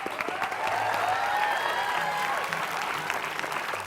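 Steady, fairly loud applause from a live stand-up comedy audience, a thick even wash of many clapping hands lasting throughout, with faint cheers mixed in.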